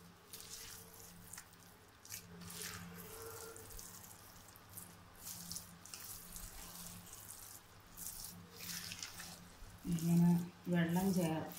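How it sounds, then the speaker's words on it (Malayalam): Water poured and stirred into flour batter with coconut and fried onion for Pesaha appam, a soft continuous slosh and squish under someone talking. "ഈ ആവശ്യത്തിന് നമ്മൾ ഇച്ചിരി വെള്ളം ഒഴിച്ചു കൊടുക്കുക."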